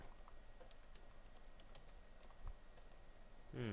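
Faint, scattered keyboard taps while a command is typed during a Minecraft island survival game, under a low steady hiss, with a brief tonal game sound at the end.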